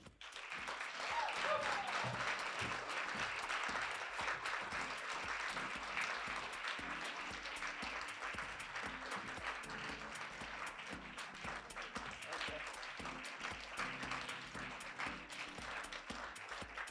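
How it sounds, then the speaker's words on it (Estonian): Sustained audience applause at a literature award ceremony as nominees come to the stage, many hands clapping steadily in a large hall, continuous and even, without talk. "Ja me palume suure aplausi saatel lavale nominendid"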